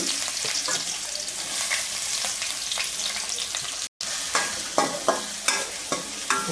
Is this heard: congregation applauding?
no